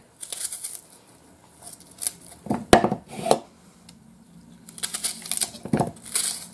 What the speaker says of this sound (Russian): Режем сюда лук.